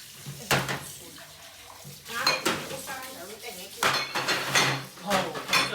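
Dishes being washed by hand: close clattering of plates, pots and cutlery in bursts, mixed with splashing water, with voices faintly in the background.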